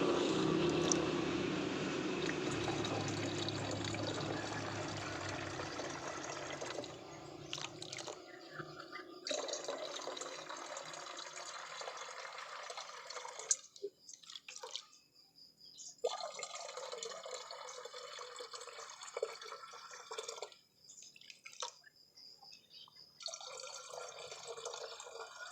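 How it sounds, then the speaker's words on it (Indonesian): Water poured into a pesticide sprayer tank, a close rushing flow at first that tapers into intermittent splashes and drips with short pauses. "Kita masukkan airnya ke dalam tangki penyemprotan"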